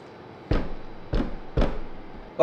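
Hand agitation of a film developing tank loaded with Ilford Pan F Plus 50 film: three distinct sloshing, knocking bursts about half a second apart, close and fairly quiet, with a fourth starting at the end.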